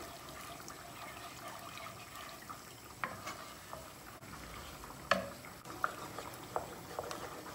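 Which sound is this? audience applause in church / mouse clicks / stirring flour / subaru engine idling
stirring flour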